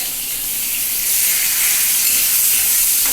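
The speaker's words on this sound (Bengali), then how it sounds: "পেঁয়াজটা আগে দিয়ে নিয়েছি এই পেঁয়াজটা কিন্তু ভেজটার মতন ভাজা যাবে না" Onions sizzling and crackling in hot oil in a kadai, a steady loud frying hiss that swells slightly partway through.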